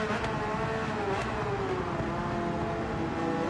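A sports car engine in Gran Turismo 7 drones steadily and loudly throughout, its pitch shifting slightly as it revs, with no talking over it.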